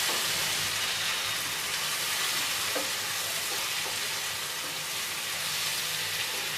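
Masala with cumin powder and Kashmiri red chili powder fries on a medium flame in a pan, a steady, dense sizzle held close and constant throughout.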